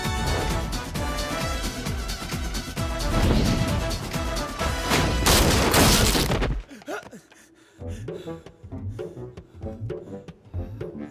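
Gunfire and crashing impacts in an action movie fight scene: a dense, loud barrage of booming shots and smashes that cuts off abruptly, followed by quieter scattered hits and thuds.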